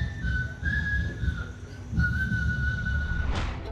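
A person whistles a song at a whistling competition during Mayberry Days. The tune is clear and sustained, made of long held notes with short pauses, over a low background rumble.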